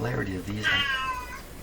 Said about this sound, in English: That's my cat coming down to ask me if I would let him go outside.